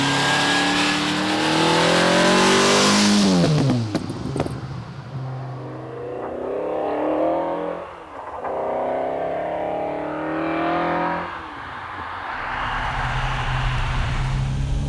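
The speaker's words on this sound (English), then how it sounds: "I am driving the noisiest, most exciting and fastest car this side of a Lamborghini Diablo." A TVR Cerbera sports car with TVR's own V8 engine drives hard, its loud engine revving up through the gears with rising and falling pitch sweeps and brief drops between shifts.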